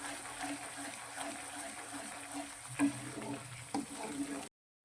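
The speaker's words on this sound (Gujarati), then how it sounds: "અને એક મિનિટ માટે બધું જ સારી રીતે સાંતળીશું" Spice masala sautéing in oil with a little water for a brinjal and val papdi curry, a steady soft sizzle with a couple of brief stirring clinks, ending abruptly in silence.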